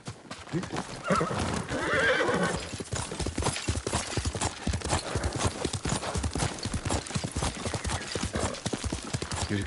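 A horse whinnies loudly while hooves clip-clop in a steady, close rhythm throughout, in the video game Ghost of Tsushima.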